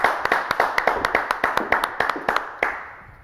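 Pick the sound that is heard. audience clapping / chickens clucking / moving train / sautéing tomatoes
audience clapping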